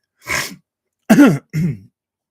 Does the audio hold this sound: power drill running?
no